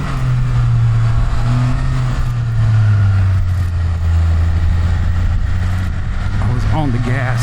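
A car drives a winding hill-country road along Route 16 near Kerrville, Texas. Its engine drones loudly and steadily inside the cabin, with pitch shifts as gears change and a brief rising rev near the end.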